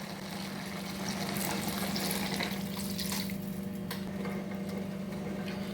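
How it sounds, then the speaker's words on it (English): Water runs into a pot of collard greens simmering on the stove, a soft steady trickle and splash under a low constant hum, fairly quiet throughout with no speech. "I'm gonna add in some more water"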